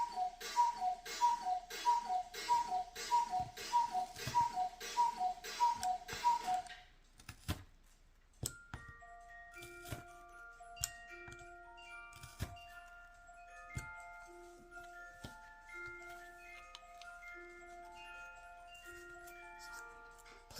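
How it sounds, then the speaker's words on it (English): A cuckoo clock ticks in a steady, fairly loud rhythm for about seven seconds, then the sound drops to fainter scattered ticks and soft tones, with no voices. "Please forgive my cuckoo clock."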